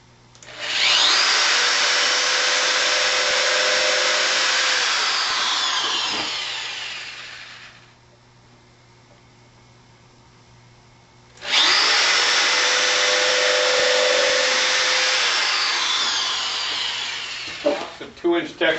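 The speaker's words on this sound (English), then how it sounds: "I have to be careful not to drill into any of the existing screws." A power drill whines loudly into wood for several seconds, stops, then runs again in a second long burst, with brief clatter at the end.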